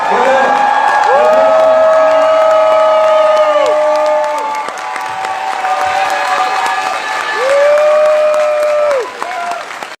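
Comic-Con crowd cheering and applauding as a guest leaves the panel, with dense sustained clapping, whoops and shouts and a sliding tone rising and falling twice through the noise.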